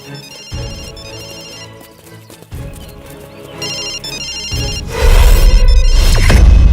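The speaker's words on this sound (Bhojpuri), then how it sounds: "यहाँ से घंटी का आवाज आवता।" A mobile phone rings in a Bhojpuri film scene, its ringtone-like tones sounding amid a swelling musical score that grows louder toward the end.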